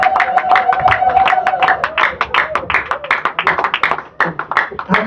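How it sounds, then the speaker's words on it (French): A church congregation claps and applauds for the Lord during a worship service, with dense, loud, rhythmic hand claps and scattered voices and cheers throughout. "Clap for the Lord."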